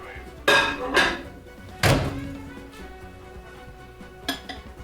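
A few hollow thunks and clinks of a dish being set down and shifted inside a microwave, with a quiet hum in between.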